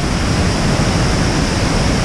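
Dense, steady roar of a fast-rushing waterfall in the Columbia Gorge, loud and close with continuous broadband spray noise and no voices.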